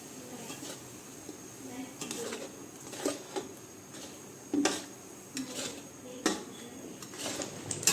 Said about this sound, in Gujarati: હવે આપણે એમાં હળદર નાખશું મીઠું નાખશું ને મિક્સ કરીશું